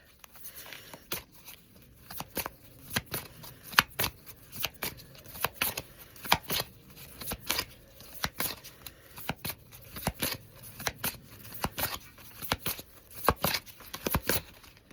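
Crystal wisdom oracle cards being shuffled by hand, a steady run of crisp, close riffling and flicking bursts with short pauses between them, no talking.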